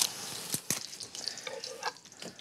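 Chopped vegetables sizzle and pop in a hot pan for potatoes, a close, soft hiss dotted with a few sharp crackles and clicks, no voices.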